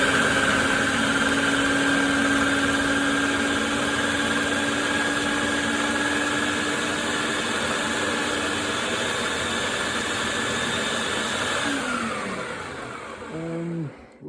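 Food chopper running at medium speed through frozen pollock fish meat for fishballs: a loud, steady motor whine with grinding texture that winds down and stops near the end.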